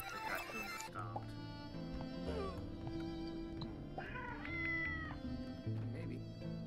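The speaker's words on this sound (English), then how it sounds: "They make cat sounds, by the way, the rabbits." Rabbits in a Braid puzzle level let out a series of cat-like meows, several drawn-out mewing calls over the game's music, with a player talking throughout.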